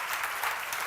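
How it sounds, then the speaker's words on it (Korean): A short stretch of dense, steady clapping from a church seminar congregation, bright and continuous with no voices audible. "믿는 사람은 빨리 박수 쳐요"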